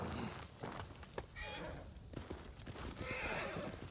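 A horse neighs and snorts in Ghost of Tsushima, with hooves shuffling nearby, while a person talks over it at moderate volume.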